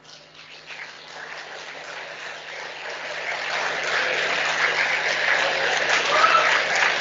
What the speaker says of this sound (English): I request you all to please rise and welcome her with a round of applause.